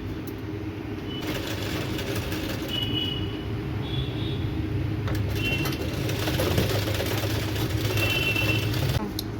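A sewing machine runs steadily, stitching a belt onto a blouse with a continuous mechanical whir and rattle that holds at a fairly loud level throughout, with no pauses.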